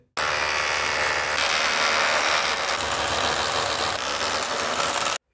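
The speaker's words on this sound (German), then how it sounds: "weswegen ich das Ganze jetzt auch mal mit einem 6er Bohrer bohren werde." Power drill with a 6 mm bit boring holes into a wall for mounting an IKEA Trones shoe cabinet, a loud continuous high whine that starts abruptly, runs steadily for about five seconds and cuts off sharply.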